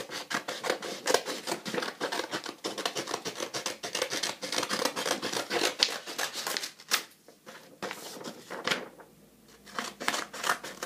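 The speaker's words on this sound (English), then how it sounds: "Now I'm going to cut this paper where the lines are out." Scissors cut paper along drawn lines up close, a fast, continuous run of crisp snips and rustling with short pauses near the end.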